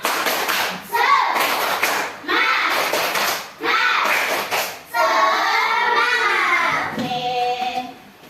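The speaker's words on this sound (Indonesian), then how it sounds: "coba tepuk semangat" A classroom of students performs a rhythmic spirit clap, loud claps arriving in patterned bursts separated by short gaps, with children's chanting voices mixed in near the end.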